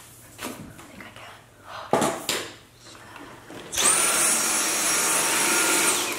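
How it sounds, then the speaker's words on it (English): A vacuum cleaner hoovers under a sofa. After a few seconds of quieter handling noises and a voice, the motor switches on with a loud, steady whine and roar that holds to the end. "just hoovering under my sofa"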